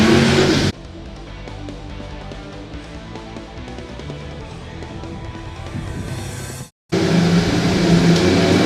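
Stock cars race around an oval track in a continuous roar of engines heard from a distance. A steady droning rumble drops out briefly near the end, then returns louder.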